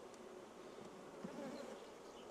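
Honey bees buzz at an open beehive with a frame lifted out, a dense, continuous hum close by with no talking.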